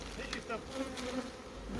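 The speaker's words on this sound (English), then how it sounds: "The buzzing got loud when the bees flew back to the tree." A swarm of honeybees buzzing around a tree after being shaken from a high branch, a steady dense drone holding through the whole stretch with slight swells, fairly faint and without speech.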